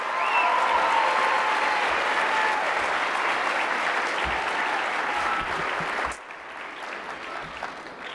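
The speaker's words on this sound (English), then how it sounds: "If you could all give Nick a nice round of applause for working so hard up here." Audience at an award night applauding, a dense sustained clapping from a crowd that carries on steadily for about six seconds, then drops to a lighter, thinner patter.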